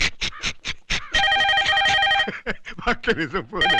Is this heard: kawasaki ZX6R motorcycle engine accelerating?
no